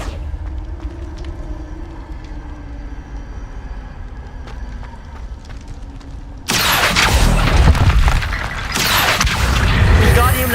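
An Accio spell in Hogwarts Legacy, with a low mechanical hum and faint clicks, then an abrupt loud rushing blast that stays dense and rumbling, swelling again near the end.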